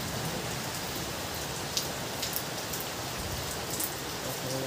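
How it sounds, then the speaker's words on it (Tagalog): A downpour beats steadily on nearby surfaces, a constant rushing hiss with a few sharper drips standing out, and no one speaking. "Lakas ng ulan oh."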